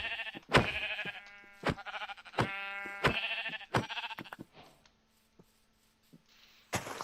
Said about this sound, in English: there's sheep, which is something that I need.